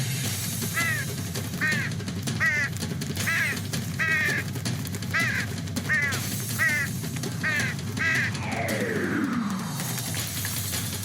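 A cartoon crow caws in a regular series of about ten harsh, evenly spaced calls over a busy background, followed by a descending swooshing effect.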